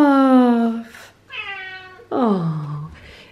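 A house cat meows three times up close: a long, loud opening meow, then two shorter, rising-and-falling cries with brief pauses between them, heard alone and clear.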